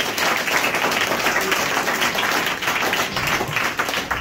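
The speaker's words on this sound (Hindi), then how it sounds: "लेकिन उसके लिए आप लोगों को क्लैपिंग देनी पड़ेगी, because it needs to make a clap." Seminar audience applauding, a dense sustained wash of many hands clapping at once, loud and even for several seconds with no pauses.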